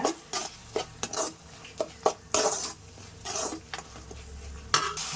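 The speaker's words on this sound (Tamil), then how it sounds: "தனியாத்தூள் சேர்த்துக்கோங்க. நல்லா வதக்கிக்கலாங்க." Spices with coriander powder are stirred in a pan for a broad bean stir-fry, with a steady run of close spoon-on-metal clatters and scrapes over a faint sizzle, no speech.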